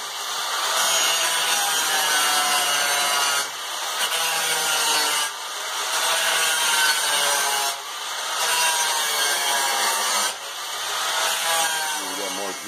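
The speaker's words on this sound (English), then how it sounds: "cut this out with the angle grinder real quick." An angle grinder cuts through the lining of a two-burner gas forge, a loud continuous grinding hiss that comes in long passes separated by short dips, with no talking.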